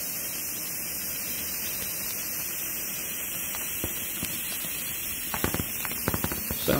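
Thin plastic film of a pico balloon under a pressure test crackles and pops, with sparse crinkles at first building to a cluster of sharp snaps near the end, over a steady hissing background.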